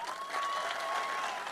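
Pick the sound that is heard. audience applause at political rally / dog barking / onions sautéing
audience applause at political rally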